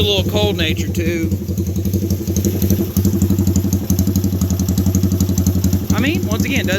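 Honda ATC 200X three-wheeler with a Curtis Spark exhaust pipe and an upgraded cam, idling with a close, loud, steady thumping beat, someone talking over the start and the end.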